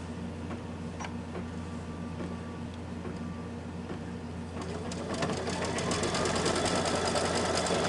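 An embroidery machine stitches to tack down mug rug fabric, with a rapid, even mechanical chatter of needle strokes that grows louder and busier partway through, over a low steady hum.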